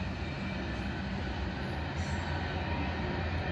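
Norfolk Southern tanker train cars roll past steadily, a continuous heavy rumble of wheels on rail with a faint metallic ring, close and unbroken throughout.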